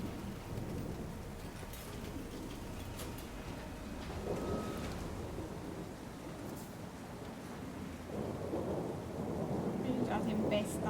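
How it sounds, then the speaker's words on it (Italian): A thunderstorm in the video game Syberia: The World Before, with steady rain hiss and low rumbling thunder rolling throughout, building slightly toward the end, with no voices. "La tempesta."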